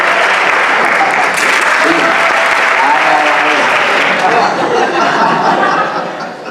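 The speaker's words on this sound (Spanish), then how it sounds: "Un fuerte aplauso." Loud, sustained audience applause fills a Star Wars actors' panel at a fan convention, with scattered chuckles and crowd chatter mixed in before the clapping thins toward the end.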